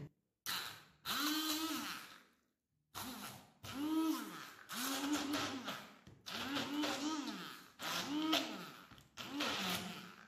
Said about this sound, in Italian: La prima cosa che andiamo a fare è mixare il tonno con un frullatore ad immersione.